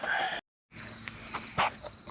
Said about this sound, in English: it sounds like we have a cricket or a bird inside